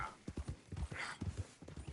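Horses in the video game Red Dead Redemption 2 clip-clop at a walk in a steady, close rhythm of hoof strikes, with a brief snort partway through.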